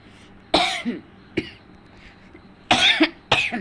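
Several harsh coughs from a person with a cold and fever, in short isolated bursts with pauses between them and a throat-clear, close and fairly loud in a quiet room with no talking.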